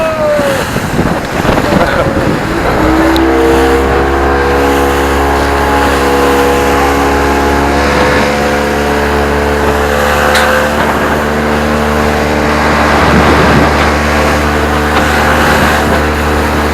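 Fishing boat engine droning steadily at sea off Ireland in choppy water, a low continuous hum with harmonic whine under heavy wind buffeting and splashing.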